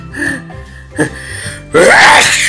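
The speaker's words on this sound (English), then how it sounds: "sorry, I got a sneeze." A voice performs a loud, exaggerated sneeze, ending a short run of breathy gasps and a brief spoken exclamation; the burst is sudden and close.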